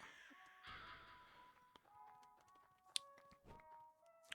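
A crow caws in the video game Lisa, with a few faint caws and chirpy game tones over quiet ambience, punctuated by soft taps and one sharp click.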